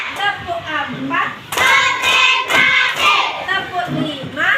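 A classroom of children claps in a rhythmic pattern, several loud bursts of hand claps spaced a beat apart, with young voices chanting along between and over the claps.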